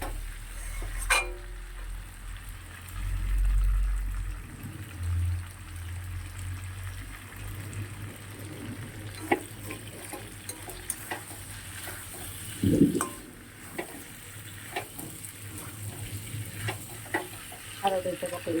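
A curry sizzles and is stir-fried in a pan for several minutes, with steady sizzling under repeated spatula scrapes and clinks against the metal, plus low background rumble and no speech.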